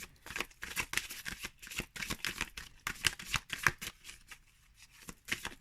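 A pile of deck cards handled and flicked close by, a quick run of crisp papery riffles and slaps in an uneven rhythm, alone without talk.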